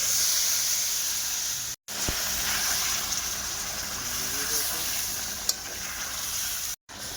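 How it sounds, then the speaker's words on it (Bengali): Water is poured onto browned, spiced meat in a pan over a wood fire, and it bursts into a loud, steady hiss of sizzling steam with occasional stirring sounds, close up. "জল দিয়ে দিচ্ছি।"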